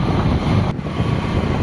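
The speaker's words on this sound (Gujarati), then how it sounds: "પવન બહુ હતો, મારા વાળ ઉડી ગયા" Strong wind gusting beside the Tapi river, a steady low roar and buffeting against the microphone that holds loud and continuous throughout with a brief dip partway, and no voices.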